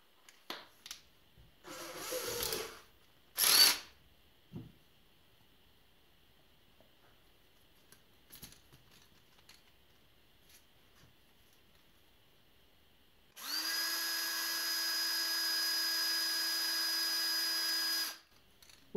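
A power drill spins a spray paint can held by a clamp in a homemade mixer. After a few faint clicks and handling knocks, the drill kicks in with a loud, steady whirring hum that runs about five seconds, then stops abruptly.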